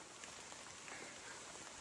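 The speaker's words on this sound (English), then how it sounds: "It's going to stop raining anytime soon now." Rain falls steadily on the Reef Bay Trail in Virgin Islands National Park, a soft continuous hiss with faint scattered drips and no talking.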